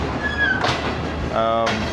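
A Shalimar Express passenger train rumbles at Rohri Junction in Pakistan, a steady loud rolling noise with faint metallic squeals and brief hissing bursts, while someone talks over it.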